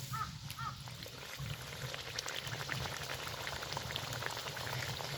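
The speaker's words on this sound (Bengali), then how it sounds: "রেসিপিগুলো একদম গরম তেলে দিয়ে দিব।" Snacks deep-frying in hot oil give a soft, continuous sizzle and bubbling, moderately faint, with no one talking.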